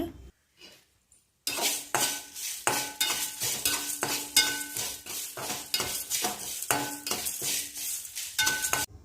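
Fenugreek, pepper, red chillies and curry leaves roast in oil for an aloe vera tamarind curry, with repeated stirring scrapes and clinks of a utensil against the pan over a steady sizzle, loud and close, after a brief quiet start.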